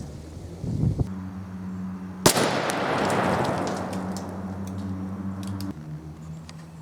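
A shotgun firing a Remington Nitro Turkey load of number 4 shot outdoors in a backyard: a single sharp, loud blast followed by a long fading rumble, with a steady low hum underneath.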